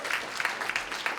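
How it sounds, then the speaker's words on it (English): Audience at a community town hall in Linden clapping for public servants seated at the front table, a fairly soft, steady patter of applause from a modest crowd. "we really want to give a round of applause to all the public servants that are sitting up on this table"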